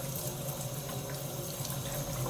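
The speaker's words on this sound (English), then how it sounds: "Okay, so I am rinsing the chickpeas. under cold water." Cold tap water runs steadily over chickpeas being rinsed in a kitchen sink, a continuous close splashing hiss with no speech.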